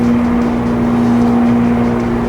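A constant low engine-like drone with a steady hum, loud and unbroken throughout, with no voices.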